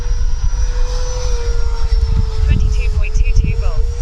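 Freewing F/A-18C 90mm electric ducted-fan RC jet flying overhead, a steady loud high-pitched whine with rushing air that swells and recedes slightly as it passes, with someone talking over it.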